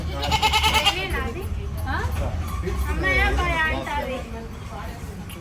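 A male goat, decorated with turmeric and vermilion and carried in a car on the way to the Medaram jatara festival, gives a wavering bleat at the start, followed by more bleats mixed with nearby voices of adults and children.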